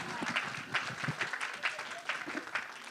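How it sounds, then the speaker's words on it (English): A live audience claps in a round of applause for Dan after a small toy demonstration, a steady patter of many hands with a few louder bursts, close and busy, with some voices mixed in. "Round of applause for Dan."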